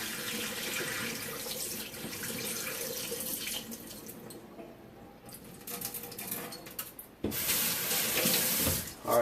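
Tap water runs steadily into a pot while rice is washed to rinse off excess starch, a close, continuous rushing splash that thins briefly midway and then surges louder as the flow hits the grains.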